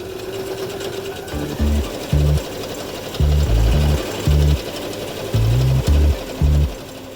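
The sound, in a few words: sewing machine stitching the sides of a handbag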